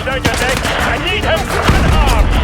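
Rapid bursts of close, loud gunfire from Call of Duty: Modern Warfare 2 Remastered crackle in quick succession, heavy and continuous across the moment.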